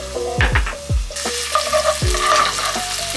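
Garlic sizzles in a pan over medium heat for pizza sauce, with a loud, close hiss and several scraping stir strokes and utensil knocks across the pan.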